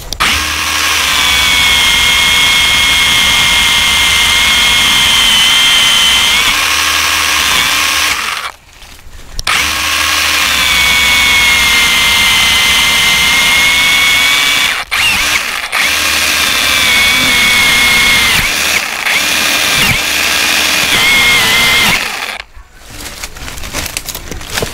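A Modren M58 battery mini chainsaw revs hard and cuts through a branch, a loud high motor whine held for long stretches with short pauses between cuts, very close.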